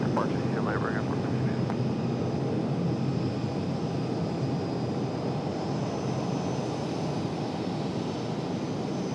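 An airliner departs Raleigh-Durham airport, a faint, steady jet rumble running throughout, with voices talking over it.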